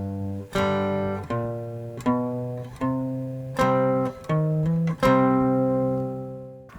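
Guitar chords from a song played on a three-string guitar are strummed one after another in a steady rhythm, each ringing out briefly, with quick hammered notes changing the pitch within some chords.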